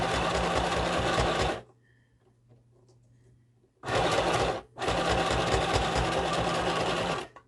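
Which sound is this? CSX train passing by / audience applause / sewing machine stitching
sewing machine stitching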